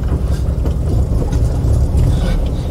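A Volkswagen Type 3 car cruises gently down a road with its engine still warming up, a steady low rumble holding close and even throughout.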